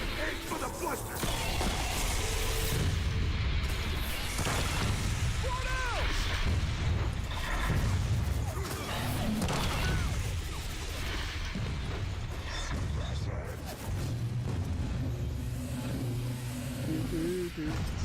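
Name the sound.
gunfire shooting at a blister in the video game Gears of War 4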